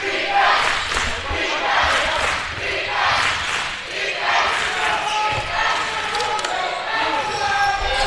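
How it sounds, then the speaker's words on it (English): Crowd noise fills a college men's basketball gym during a tight game, a steady roar of cheering and shouting with sneaker squeaks and ball bounces mixed in, loud and sustained throughout. "As the crowd seems to get back into it here for the Express"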